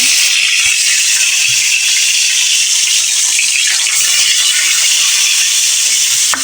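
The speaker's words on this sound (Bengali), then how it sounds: "মাছটা কেটে লবণ আর হলুদ মেখে নিয়েছি এখন ভেজে নিব তেলটাও গরম হয়েছে" Salted, turmeric-rubbed fish frying in hot mustard oil gives a loud, constant close hiss of spitting oil that holds steady with no talk.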